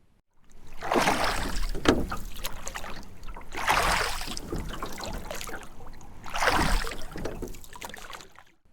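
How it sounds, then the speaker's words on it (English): A small white rowboat is rowed across a lake, with three broad swells of splashing, sloshing water as the oars dip and pull, close by with no voices. "They take turns rowing."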